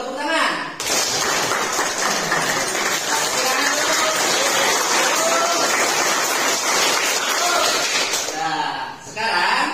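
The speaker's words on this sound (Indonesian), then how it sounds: "kita tepuk tangan dulu, tepuk tangan" Students clap together in a classroom, a dense, loud burst of many hands that runs steadily for about seven seconds and then stops abruptly.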